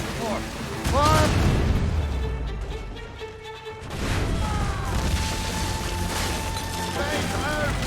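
Ship cannons in the Assassin's Creed Rogue naval battle boom repeatedly, heavy blasts scattered across several seconds amid crashing effects, with shouted voices over the gunfire.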